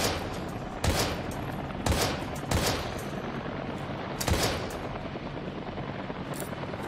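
Several sharp gunshots from the video game Daymare: 1998 ring out at uneven intervals, about five loud bursts over a constant background hiss.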